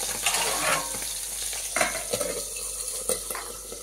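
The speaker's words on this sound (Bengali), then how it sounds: "তেল গরম হয়ে গেছে, আমি দিয়ে দিচ্ছি মাছ।" Tangra fish frying in hot oil in a pan, a dense, steady sizzle and crackle with a few scraping stirs and light utensil clinks, close and continuous with no talking.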